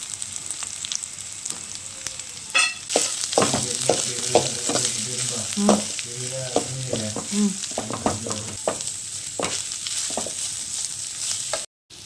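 Cumin seeds fry and sizzle in hot oil in a pan with chilli powder, a soft constant crackle broken by repeated scraping stirs of a spoon, close and fairly quiet.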